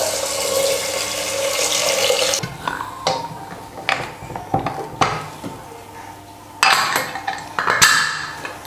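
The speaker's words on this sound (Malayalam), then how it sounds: "ഇനി ഇതിന് നികക്ക വെള്ളം ഒഴിക്കുക" Water poured into a pressure cooker holding split green gram with salt and coconut oil, a splashing pour at first, then scattered clinks and knocks of a vessel and utensils.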